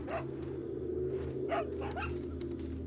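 A dog barks in the Resident Evil 4 survival horror game, a few short barks at about half-second intervals, moderately distant, over a steady low ambient game drone.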